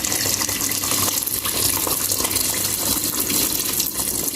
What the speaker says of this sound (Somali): biyaan ku darayaa